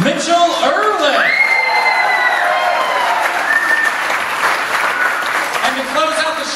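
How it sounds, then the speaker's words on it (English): Audience applause mixed with cheers and whoops closing a student talent show at Stanbridge Academy, loud and sustained throughout, with shouted voices and excited calls rising over the clapping. "And to close out the show, one last round of applause"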